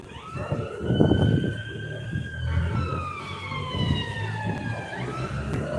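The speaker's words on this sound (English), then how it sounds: "I hear sirens." Emergency vehicle sirens wail outside, several overlapping rising and falling tones sweeping continuously over a low rumble of passing traffic, fairly close and steady throughout.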